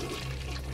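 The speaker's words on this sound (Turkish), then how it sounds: "Sifonları çekiyor ya" Toilet flush in BioShock, a steady rushing of water with a low hum underneath, held at an even level for under a second with no talk.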